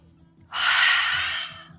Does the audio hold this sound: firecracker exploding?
no